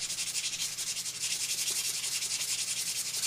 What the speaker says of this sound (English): So I'm going to take, hopefully, a fairly clean piece of sandpaper.